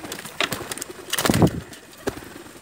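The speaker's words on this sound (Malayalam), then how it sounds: "ഇതാ ഈ കൂട്ടിയത് പ്രാവുകളെയാണ് ഇനി വിടാനുള്ളത്" Pigeons cooing around a loft at feeding time, soft repeated throaty calls close by with some rustling.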